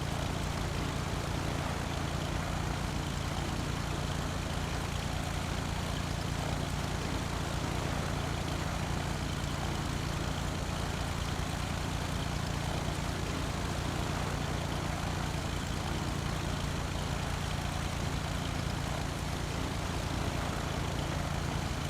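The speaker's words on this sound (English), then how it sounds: "Great, you're now in a Piper Cub." Engine of a Piper Cub light aircraft in Flight Simulator X, a steady propeller drone with a constant low buzz that stays loud and unchanging throughout, with no talking.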